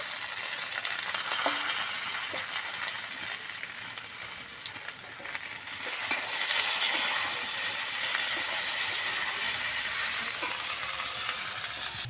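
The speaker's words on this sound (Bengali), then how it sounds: "এবার আমি এর মধ্যে দিয়ে দিচ্ছি শাক তেলাকুচুর শাকটা দিয়ে আর একটু ভালো করে কষিয়ে নেব" Telakucha greens stir-fried in hot oil, a steady close sizzle and hiss with occasional scraping stirs, slightly louder in the second half.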